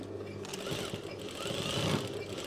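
A sewing machine stitching a black jacket runs in a close, continuous mechanical whir that builds slightly toward the end, with no voices.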